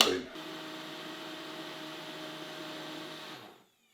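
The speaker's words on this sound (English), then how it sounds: "If you're not doing your protein shakes in a NutriBullet or whatever that is, it's not a NutriBullet but a mixer, you're doing it wrong." A countertop mixer blends a protein shake with whey and almond butter, giving a steady droning whir that sits at constant loudness for about three seconds and then cuts off.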